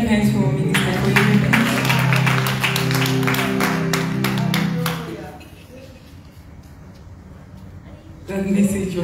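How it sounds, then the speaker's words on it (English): A church congregation at an anniversary celebration claps hands loudly together in dense rhythmic bursts for several seconds, then the sound drops away to a quiet room before clapping resumes briefly at the end. "Wow! Can we clap hands for a minute?"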